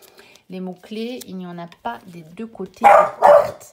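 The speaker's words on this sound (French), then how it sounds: "c'est mon chien qui a entendu quelque chose dans la rue" A pet dog reacting to something in the street barks twice, loud and close, at the end of a stretch of indoor talking.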